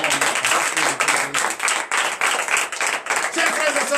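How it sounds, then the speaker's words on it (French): A church congregation at a Saturday morning prayer service in Comè, Benin, claps loudly and continuously, with dense overlapping hand claps and voices mixed in. "Donc je vous demande d'applaudir très fort."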